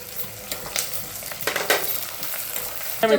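Curry leaves, mustard seeds and onions sizzle in hot oil for a cashew upma, a steady close crackle stirred now and then, with a sharper burst of spitting near the end and no voices.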